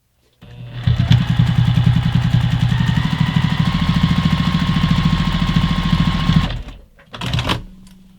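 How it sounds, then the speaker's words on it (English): A sewing machine closes the lining opening of a selvage zipper pouch, running loud and close with a rapid, even pulsing for about six seconds. It stops, then gives one short final burst. "I like to close my openings by machine. So I'm going to do that right now."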